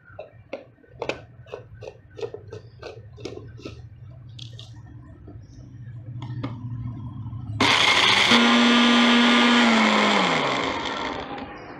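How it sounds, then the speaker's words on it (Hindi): A mixer grinder bursts into a loud, steady whir after some earlier clattering and handling noises, then winds down as whole spices such as fennel, long pepper, cloves and star anise are ground for homemade pulao masala. "अभी हम इनको ग्राइंड करके बाकी मसाले फिर ग्राइंड करेंगे।"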